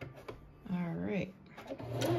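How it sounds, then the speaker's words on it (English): A sewing machine runs a long zigzag stitch around a coiled fabric-wrapped rope bowl, whirring in short bursts with pauses between them, while someone talks over it. "I'm just going to keep zigzagging, backing up as needed, until you have it the size you want"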